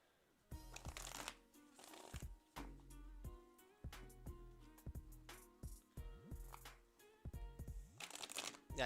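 Tarot cards are shuffled close by in repeated riffling bursts, each a quick papery flutter ending in a soft tap as the deck squares up, with short pauses between them.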